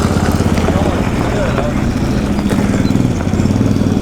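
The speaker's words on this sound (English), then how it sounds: "The bikes are rolling in." Motorcycles roll in at an outdoor barbecue food stand on a hot, dry day, a loud continuous engine rumble running throughout.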